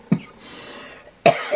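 Two sharp, close coughs from a woman, one at the start and another near the end, separated by a quiet hiss.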